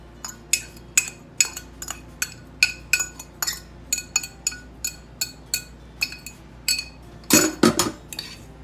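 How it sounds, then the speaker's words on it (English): A spoon clinks and scrapes steadily against a bowl as a cheese mixture is moved into another bowl, rhythmic close metallic taps with a louder clatter near the end and no talk. "So I'm just gonna go ahead and transfer that into another bowl."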